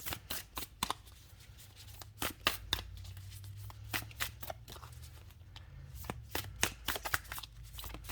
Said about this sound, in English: If I could shuffle cards.